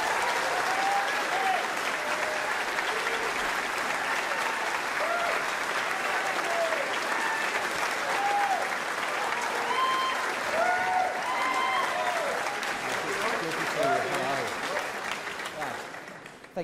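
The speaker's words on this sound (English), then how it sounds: "please give a very large round of applause for the Right Honourable Rishi Sunak MP." Audience applause at a Conservative party hustings in Exeter greets a candidate, a long, sustained wall of clapping with faint crowd voices beneath it that holds steady before tapering off near the end.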